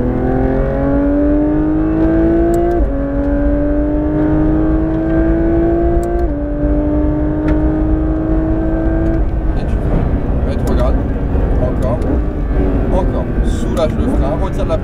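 Porsche 992 GT3 RS accelerating hard on the Fontenay-le-Comte race circuit, its engine rising in pitch through several gear changes, loud and close, with an instructor talking over it.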